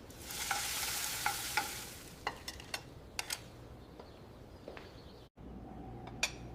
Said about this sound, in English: I cook my breakfast.